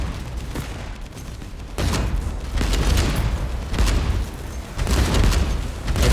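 Rapid machine gun fire in a naval battle in the video game Age of Water, loud dense bursts of shots that swell and ease in several waves, with no talk over them.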